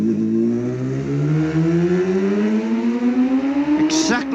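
John McGuinness's racing motorcycle at Ramsey Hairpin during the 2007 Senior TT, a loud close engine whose revs climb steadily through a gear, with a sharp burst near the end.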